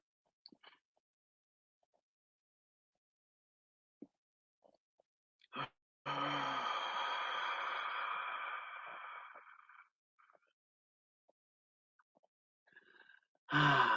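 Slow, deliberate breathing during a guided relaxation exercise: a few faint breaths, then one long steady exhale of about four seconds, heard close and alone in a quiet room.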